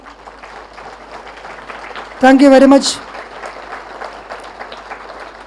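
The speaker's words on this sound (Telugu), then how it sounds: "చేతులు తీసివేస్తూ గట్టిగా చప్పట్లు కొడదాం" Scattered audience clapping patters throughout at a meditation session, while a voice briefly speaks a short phrase loudly in the middle.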